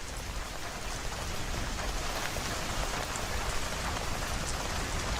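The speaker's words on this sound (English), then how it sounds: "the raindrops fall on the metallic surfaces nearby, aka the vehicles" Rain falls steadily on metal vehicles, rooftops and the surrounding landscape in the video game S.T.A.L.K.E.R. G.A.M.M.A., a dense, even hiss of drops with no voices and no break.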